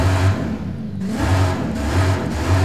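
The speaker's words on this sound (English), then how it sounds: "I'm revving it up a little bit." Engine of a 1000 hp Saleen Sport Truck in Forza Horizon 5 revving in a steady, loud sequence: a low droning engine note swelling and easing in repeated pulses, with no voices over it.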